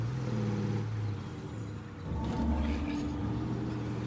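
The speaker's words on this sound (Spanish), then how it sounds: "cómo se oye cuando gira la rueda y todo" A car engine in the video game State of Decay 2 revs with a whining tone as the wheels spin, the pitch dipping briefly before rising again.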